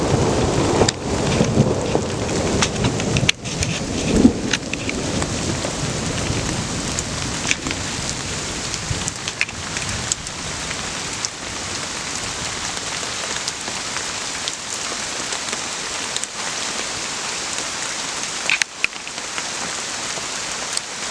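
Steady rain pours on and around a bushcraft shelter during a thunderstorm, with a dense continuous patter, occasional louder drops and low rumbles of thunder beneath, heard with no talking.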